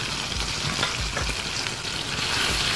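Tomato and coriander masala for moong dal chilka fries in a pan over low heat, giving a steady close sizzle with soft stirring scrapes throughout.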